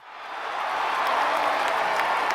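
A large stadium crowd at a college football bowl game roars and applauds, the dense cheering swelling from quiet to a sustained loud wash that holds steady.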